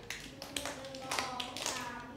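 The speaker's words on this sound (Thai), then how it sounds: "เราต้องปรบมือเยี่ยมให้ตัวเอง3ครั้ง" A class of young schoolchildren clap together in a few separate bursts, close and fairly loud, mixed with background classroom noise and a voice.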